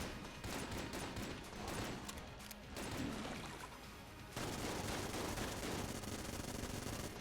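Vulcan cannon gunfire in the video game Enter the Gungeon, a dense continuous rapid-fire barrage with a few brief gaps, then resuming steadily and loudly to the end.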